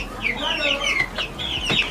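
Chickens clucking nearby in a short burst of several calls, fairly loud with little else around.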